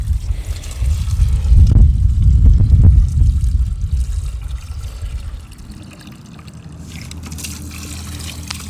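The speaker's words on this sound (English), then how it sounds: "I'm going to fill both buckets up with water" Water pours and gurgles into a bucket, a loud rushing splash at first that eases into a softer steady trickle as the bucket fills, close by with no speech.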